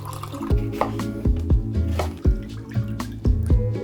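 Cold water pours and splashes into a glass for pink lemonade, making a close, gurgling series of glugs and drips at an uneven rhythm, with no talking.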